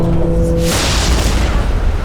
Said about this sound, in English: And then explosions.